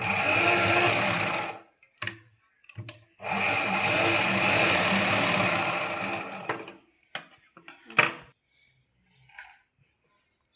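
A sewing machine stitches a dress neck piece in two long, steady whirring runs, then stops and starts in short bursts with brief pauses as the fabric is turned at the corners.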